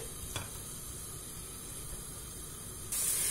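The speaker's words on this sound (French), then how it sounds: "Je vais laisser mes oignons cuire. Je veux une petite caramélisation des oignons quand même." Onions cooking slowly toward caramelization in a pan give a soft, steady hiss, faint and even, with a short tap early on and a brighter surge of sizzle right at the end.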